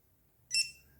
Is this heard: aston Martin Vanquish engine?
no